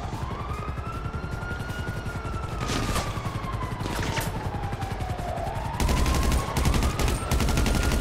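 Gunfire in Grand Theft Auto V during a shootout, with rapid bursts of shots layered under a wailing police siren that rises and falls, and a louder dense stretch of shooting near the end.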